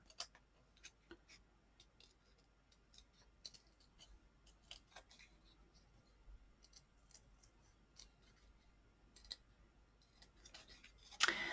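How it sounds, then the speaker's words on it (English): Faint, scattered snips of scissors fussy cutting a small paper card piece by hand, quick irregular clicks in a quiet room with no talk. "There's no die for this one, so I'm just going to quickly fussy cut."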